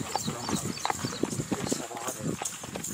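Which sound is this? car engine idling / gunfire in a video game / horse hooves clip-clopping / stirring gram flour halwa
horse hooves clip-clopping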